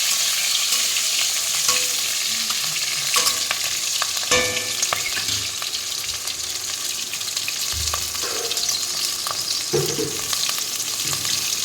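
Spices, green chillies and a fish head fry in a hot oil tempering with a loud, continuous sizzle and crackle, broken by a few spatula scrapes and clanks against the pan, with no voices.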